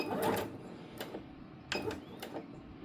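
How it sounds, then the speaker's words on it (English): A sewing machine stitches a quarter-inch scrunchie seam in two quiet bursts of rapid mechanical whirring and ticking, separated by a brief pause, with no talk. "and continue sewing as normal. And this machine is really cool."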